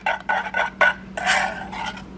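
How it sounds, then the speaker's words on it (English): A whisk works through brownie batter in a bowl, making a series of quick, close, scraping swishes in an irregular rhythm, ending in a longer, smoother stir. "we'll whisk that in"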